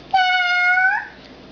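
A voice imitates a cat's meow: one drawn-out, high-pitched tonal call lasting about a second that rises slightly at the end, heard alone in a quiet room during lunch.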